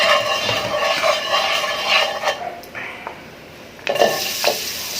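Onion, garlic and a little chili sizzle steadily in a small amount of olive oil, with occasional utensil scrapes and stirring clinks against the pan.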